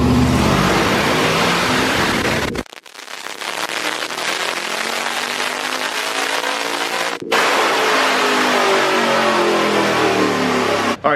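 A car running hard on a dyno on E85 fuel roars loud and continuous at high revs, with a brief cutoff around the shift points and clipped, distorted engine noise throughout.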